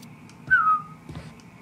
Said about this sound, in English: they both heard the whistle